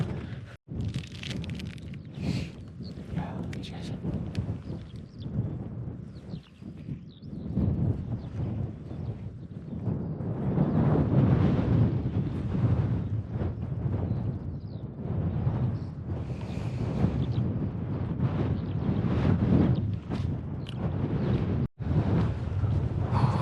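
Steady wind buffets the microphone outdoors on the Isle of Skye trail, a continuous rushing roar that swells and eases over about twenty seconds, with no talking.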